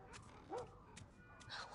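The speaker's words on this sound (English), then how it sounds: "So shut the dog up, for fuck's sake." A few quick dog yips and whimpers in The Last of Us video game, faint and close together over a quiet background.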